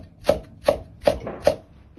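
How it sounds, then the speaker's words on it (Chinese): A knife chops smashed ginger and garlic on a board, four evenly spaced, solid thuds close up, each with a brief woody ring. "姜蒜适量，先拍破再剁碎"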